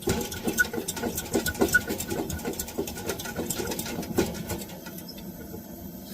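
Small camp stove being pressurized with its hand pump, giving a rapid run of repeated rhythmic pumping strokes up close that thin out toward the end.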